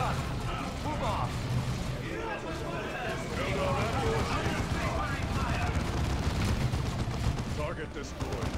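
Sustained gunfire and artillery in the real-time strategy game Dawn of War II, with dense overlapping bursts, blasts and battle effects throughout a continuous loud din, while game voices call out orders over it.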